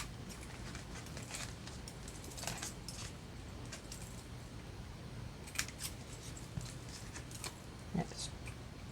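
Scissors trim the paper corners off a tag-style pocket, giving faint, quiet snips scattered irregularly over a soft background hiss.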